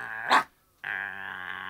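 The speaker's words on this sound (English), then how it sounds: "the dog snapped and snarled" A dog snaps and snarls while fighting a pheasant, giving a short growling snarl, a sharp snap, a brief gap, then another sustained snarl.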